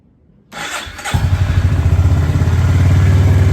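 A motorcycle engine cold-starts on a winter morning after a quiet moment, cranking briefly before catching into a loud, close, rhythmic idle with high revs that holds steady.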